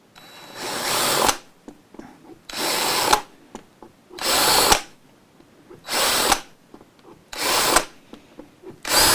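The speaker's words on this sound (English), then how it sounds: "I'll go in with a slightly bigger drill bit here" An electric drill bores string through-holes in a Telecaster guitar body, with five loud whining bursts of about a second each, separated by short pauses and faint handling noise.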